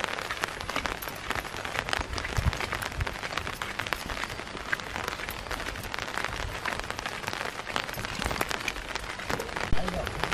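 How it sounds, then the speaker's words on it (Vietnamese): Steady summer rain patters densely on grass and surfaces outdoors, a continuous close hiss of drops lasting the whole stretch, with a person talking over it now and then. "Trời đang mưa nhá."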